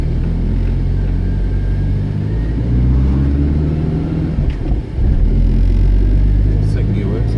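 A Mitsubishi Sigma's engine drives on a road: a loud, steady low rumble with slight shifts in revs, close and continuous throughout, with a brief dip near the middle.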